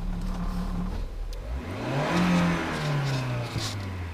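A Lada Vesta with a robotized gearbox pulls away and accelerates, engine tone rising through a gear change with a whirring mechanical note, heard from inside the car.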